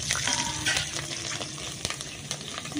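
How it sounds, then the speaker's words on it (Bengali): Slit green chillies sizzle in hot mustard oil left from frying pomfret fish, a close, crackling fry with sharp pops and spits scattered through the steady hiss. "এখন তেলের মধ্যে আমি চেরা কাঁচা লঙ্কা দিয়ে দিলাম।"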